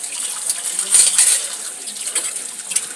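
Dishes, cutlery and metal utensils clinking and clattering at a sink during washing, with bright irregular clinks at close range and a louder cluster of knocks midway, no talking.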